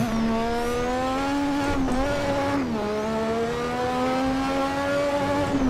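A racing car engine in the sim racing game Assetto Corsa holds a loud, steady high-revving drone, dipping briefly twice as it shifts or lifts before climbing again, with no talking.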